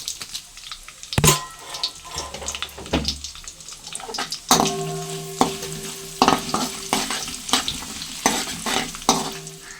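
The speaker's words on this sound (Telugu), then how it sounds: "తాలింపు అయితే ఇలా వేయించుకోవాలి" Crushed garlic cloves, dried red chillies and curry leaves frying in oil for a tempering, crackling and popping loudly with repeated sharp spatula knocks and scrapes against the pan.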